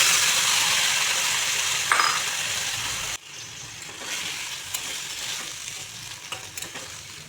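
Chopped ridge gourd and potato fry in a pan with green chilli paste and slit chillies, a steady loud sizzle that drops abruptly partway and continues softer with occasional scraping stirs; no talk.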